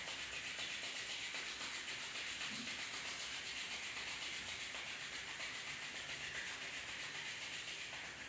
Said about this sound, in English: Rub your palms each other,